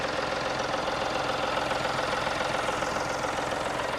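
A 2017 Mahindra KUV100 K8 small diesel engine idles with a steady, even rumble and a faint knocking clatter, with no talk over it.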